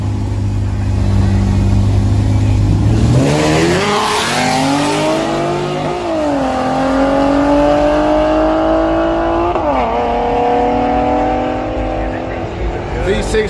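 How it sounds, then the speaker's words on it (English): A V6 Camaro and a 392 launch in a heads-up grudge drag race at a strip; loud engines rev, then roar and climb through the gears with a shift midway, while voices carry in the background. "Y'all think this V6 gonna whoop this 392 or what?"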